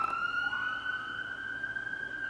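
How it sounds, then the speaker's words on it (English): Emergency vehicle sirens wail outside in a city, a steady high tone holding continuously at moderate distance over faint background rumble, with no talking. "Sorry if you can hear those sirens."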